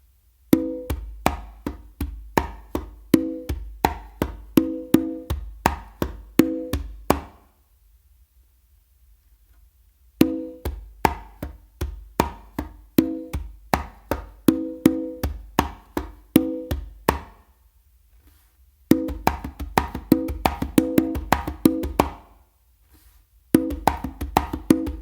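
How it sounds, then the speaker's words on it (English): Slappy tumbao pattern on a hand drum, crisp repeated slaps and open tones in a steady rhythmic groove, played alone in three bursts separated by short pauses. "that is some spicy, slappy tumbao"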